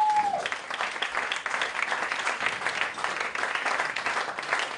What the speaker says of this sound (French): Applaudis à Zot bien fort.